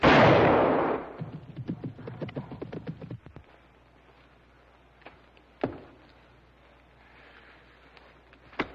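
A single sharp hunting-rifle gunshot rings out in an old film scene, followed by scattered faint knocks and clicks in a quiet room-like space with no talking.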